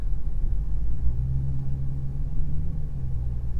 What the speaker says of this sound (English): Man, it's got a stock exhaust,